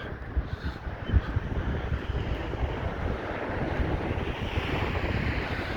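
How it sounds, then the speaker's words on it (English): A sea breeze picking up on the Blackpool seafront, gusting and buffeting the microphone over the steady wash of surf, loud and close, with no talking. "That breeze is just getting up now."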